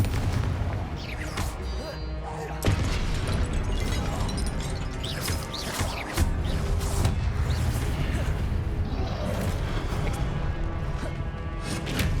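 A Confringo blast spell cast in Hogwarts Legacy, a loud burst amid a dense, continuous wash of booming combat effects and music, with a few sharper impacts standing out.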